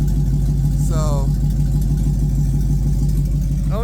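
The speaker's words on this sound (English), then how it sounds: "does sound like it's getting a little bit of a hiccup or a miss down here" An LS-swapped OBS Ford truck engine idles with a rough, uneven hiccup or miss, running loud and close by the exhaust tips as a steady low rumble, with brief higher whines rising over it.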